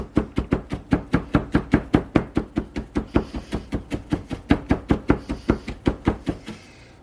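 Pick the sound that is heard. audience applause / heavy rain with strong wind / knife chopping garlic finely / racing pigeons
knife chopping garlic finely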